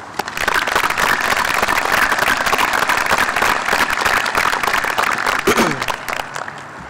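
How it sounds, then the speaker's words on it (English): Audience applause at a high school graduation ceremony, loud and continuous from a large crowd filling the space, with a brief voice rising near the end before it tapers slightly. "I ask that we give them the applause they deserve."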